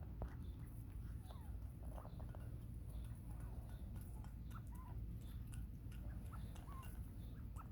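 Small pet birds chirp in scattered short calls while pecking at treats, with bird seed and pellets on hand, over a steady low background hum and faint rustling.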